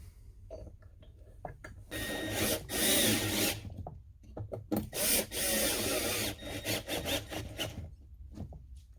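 A 5 mm x 0.8 Irwin tap cuts threads into the flywheel of a Stihl BR-200 blower, giving close, scraping and grinding bursts with short pauses between the turns.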